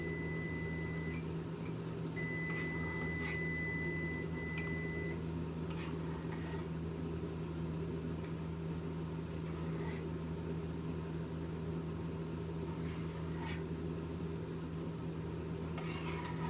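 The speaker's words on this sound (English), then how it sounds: "All right, microwave. We hear you." A microwave oven hums steadily at close range, and a few short electronic beeps sound over the drone early on.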